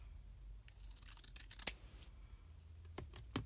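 Scissors snip through a folded paper or card sheet while a gift box for three candles is being made, giving a sharp single cut near the middle with a few softer rustles and small taps around it, close and fairly quiet.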